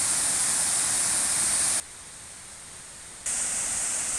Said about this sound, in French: Voici la vue d'en dessus sur la cascade de Muret-le-Château.